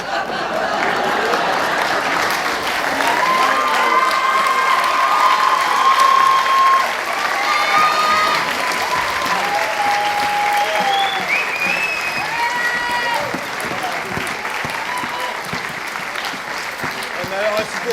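A large theater audience applauds and cheers at a charity stage show, with dense, continuous clapping throughout and voices talking and calling out over it.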